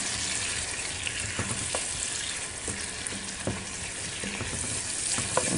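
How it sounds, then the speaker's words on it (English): Carrots, celery and onions sautéing in a pan while being stirred, a steady close sizzle with occasional scraping knocks, no voices. "I threw in my carrots and the celery, and I'm just gonna mix them up a bit"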